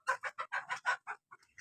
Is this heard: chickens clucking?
yes